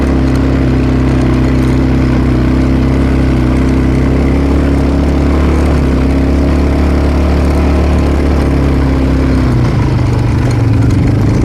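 A Braves Motors Shark 220 ATV quad bike engine idles steadily up close in a continuous low drone, its tone shifting and roughening briefly near the end.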